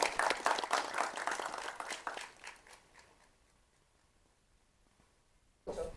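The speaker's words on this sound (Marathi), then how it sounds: "एकदा जोरदार टाळ्या त्यांच्यासाठी वाजवूया" Applause from an audience greeting a guest at a Marathi film trailer launch, a burst of clapping that thins out and fades over a few seconds, then a short loud noise near the end.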